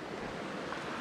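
Clear water pours down a waterfall, Upper Gartmore Falls near Maskeliya in Sri Lanka's hill country, heard as a steady, even rushing roar with no breaks, fairly soft and distant.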